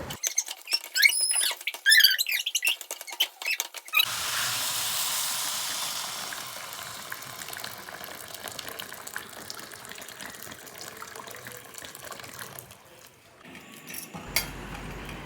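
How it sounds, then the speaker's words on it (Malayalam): Boiled water is poured into beef pickle in a pan, a loud gushing pour that settles into a steady splashing stream and then bubbling, after a few seconds of spoon clatter. "ഇതിലേക്ക് നമ്മൾ പാകത്തിന് തിളപ്പിച്ച് വെച്ച വെള്ളമാണ് ഒഴിക്കുന്നത്"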